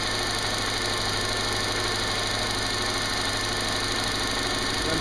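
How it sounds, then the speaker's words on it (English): Subaru engine idling rough with a cylinder 2 misfire, a close, steady mechanical hum and drone with a faint uneven pulse through it and no pauses. "I'm going to go fire this thing up and see if it's still throwing a misfire code, running rough or not"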